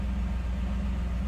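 A 1992 Chevrolet Camaro RS with a 5-liter engine idles in a steady low rumble, close and even, with no other sounds over it.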